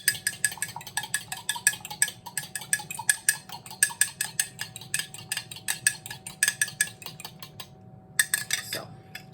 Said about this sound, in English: it needs to be beaten. You can use a whisk or a fork, doesn't matter.